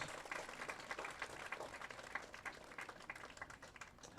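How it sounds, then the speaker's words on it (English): Crowd applause at a high school softball game honoring seniors, a steady outdoor patter of many hands clapping, faint and distant. "How about one more big round of applause for our 7 Kahok seniors."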